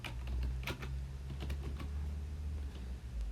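A document name typed on a computer keyboard: a quick burst of close key clicks followed by scattered taps over a low steady hum.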